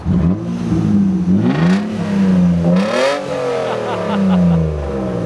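A clean Toyota Mark II revs its engine on a Tokyo street, loud and close, the pitch rising and falling through several blips of throttle over a steady idle, with no talk over it.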